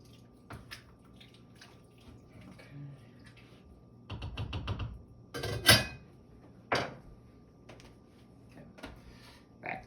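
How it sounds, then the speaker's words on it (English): A spoon scrapes and stirs through cut corn cooking in a pot, producing bursts of wet, clattering knocks against the pot, some louder than others, heard close amid quieter background kitchen noise. "I gotta keep stirring that. Hold on. I don't want it to burn."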